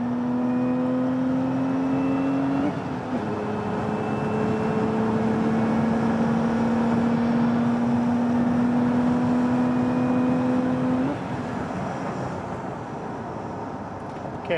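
A Lotus Emira sports car is driven on a race track, its engine holding a steady droning tone that steps down briefly and then climbs slowly, heard from inside the car with no talk.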